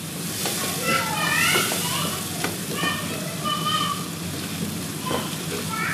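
Spice masala sizzles and crackles in hot ghee for mutton liver, a steady frying hiss with occasional stirring scrapes while a voice talks over it.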